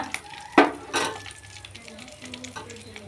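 Ground cumin, ginger and green chili paste sizzles in a pan for a vegetarian papaya curry, with a sharp scrape of stirring and a loud burst of frying, then quieter crackling.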